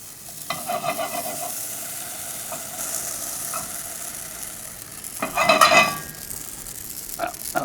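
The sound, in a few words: amaranth grain popping in a lidded pan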